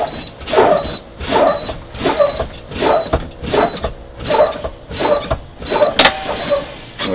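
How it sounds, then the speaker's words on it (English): A truck's air brakes are pumped down repeatedly during a CDL pre-trip brake test, giving a regular rhythm of about ten whooshing pumps and hisses, close and loud, with a sharp pop near the end. "We're going to pump down between 20 and 45 psi, and the emergency brakes will kick on and pop out our brakes."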